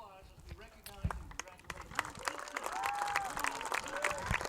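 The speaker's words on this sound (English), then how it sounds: "Please give a round of applause as we recognize and" Crowd applause at a high school softball senior night game, a steady patter of clapping rising slightly and continuing under an announcer's voice.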